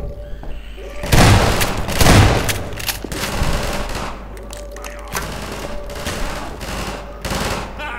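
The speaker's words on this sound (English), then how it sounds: "Watch out for the grenades, they will kill you." Heavy grenade explosions and rattling gunfire in the video game Half-Life 2. Two loud blasts boom close together early on, then scattered shots and thuds continue at a lower level.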